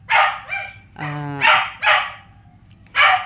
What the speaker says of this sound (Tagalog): At dahil napakaingay ni ni Askal, atin na lang siya ipapasukin